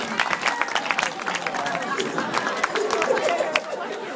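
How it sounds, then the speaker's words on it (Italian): Applause and lively crowd chatter from an audience at a children's dance show, dense patter of claps mixed with voices and hubbub, fairly steady throughout. "Signori, applauso al nostro Cristian."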